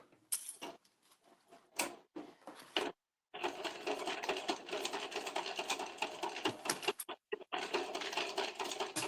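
A sewing machine stitches fabric in short bursts and longer runs of rapid mechanical whirring and clatter, close by, with brief pauses and stops between seams.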